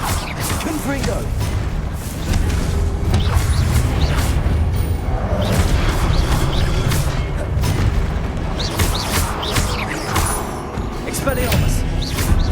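Confringo fire spell blasts in Hogwarts Legacy during combat, heavy booming impacts mixed with other spell sounds, while a voice shouts spell names over the action.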